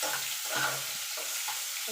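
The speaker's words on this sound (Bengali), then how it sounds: "একটুখানি নাড়াচাড়া করে নেব" Capsicum and onion frying in a pan are stirred with a few scraping strokes over a soft, steady sizzle, close and quiet.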